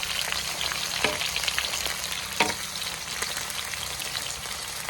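Steady crackling sizzle of food frying in oil, with occasional louder pops and scrapes of stirring, close up and without talk.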